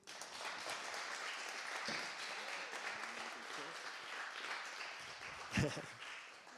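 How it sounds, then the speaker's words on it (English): A small community gathering applauds during a certificate handout, steady moderate clapping from a modest crowd with a few voices mixed in and one sharp louder knock near the end. "For Suleiman, big round of applause, please"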